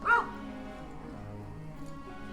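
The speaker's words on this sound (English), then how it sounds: "Oh, there's a puppy outside." A puppy outside gives one short yip or bark at the very start. After that comes a steady low background with no further clear barks.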